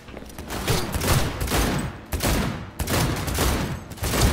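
Sustained bursts of automatic gunfire in the video game Cyberpunk 2077, loud and close, with rapid shots rattling in long volleys separated by brief gaps.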